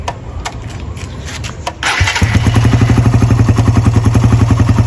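A carbureted Honda/Suzuki Raider 150 motorcycle is cranked, catches after about two seconds and settles into a loud, close, steady rhythmic idle that continues to the end.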